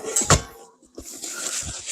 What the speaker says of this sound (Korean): 문을 열죠? 문을 닫죠?